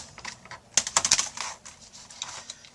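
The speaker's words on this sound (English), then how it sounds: "Now we're going to put our keyboard back in." A Toshiba Satellite laptop keyboard being pressed back into its housing gives a quick burst of close, sharp clicks and snaps, then lighter scattered taps, with no one talking.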